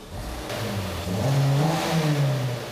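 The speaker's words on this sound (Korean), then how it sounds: "시동 한번 걸어보겠습니다" A car engine with an intermittent starting fault roars as it revs up after repair, the pitch climbing and holding steady at a loud, close level with no talking.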